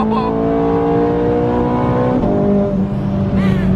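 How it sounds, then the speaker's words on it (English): A Ferrari sports car engine roars steadily close by with a sustained, droning revving tone, its pitch shifting slightly as it accelerates, with no talking over it. "Oh my God, this car is sick."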